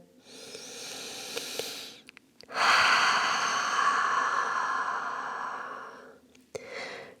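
Close breathing during a vinyasa yoga flow: a soft airy inhale through the nose, then a louder, longer hissing exhale through the mouth, followed by a brief sharp breath.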